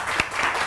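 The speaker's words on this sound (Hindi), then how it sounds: "जोरदार ताली उम्मीद राहिल के लिए जी" Applause from a studio audience on a morning TV show, a short burst of dense clapping with a few sharper claps standing out.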